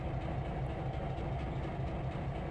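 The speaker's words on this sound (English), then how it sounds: "This is a train coming in." A train rolls in within Trainz 2022, a steady low rumble and rail noise running continuously at moderate level with no distinct breaks.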